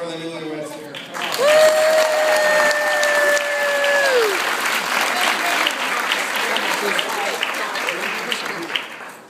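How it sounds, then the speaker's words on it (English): Wedding guests break into a sustained round of applause for the newlyweds, steady dense clapping with some cheering and whistles, after a brief voice at the start. "Let's give another round of applause for the newlyweds here."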